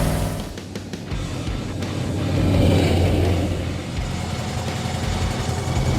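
A classic Pontiac GTO idles and revs through loud aftermarket exhaust pipes, a steady close rumble that swells in the middle and settles again, with no talking.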